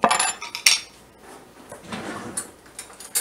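Utensils scrape and clink against a dish while a stuffed acorn squash filling of canned meat is mixed, with sharp metallic taps at the start and lighter, irregular scraping after, close up and without speech.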